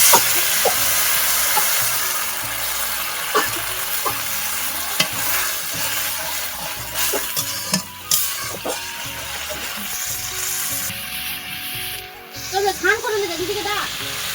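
Water poured into a pan of spice masala frying in oil sets off a loud, continuous sizzle and hiss, with repeated stirring scrapes and clinks close up.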